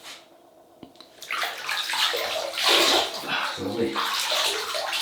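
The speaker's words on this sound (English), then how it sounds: "So that's how we'll wet the face." Water splashes and sloshes steadily, close and fairly loud, as a face is wetted with water before a double-edge razor shave, with a brief tap at the start and a voice speaking over it.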